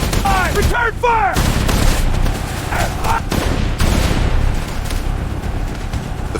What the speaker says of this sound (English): The first rifle volleys cracked through the woods.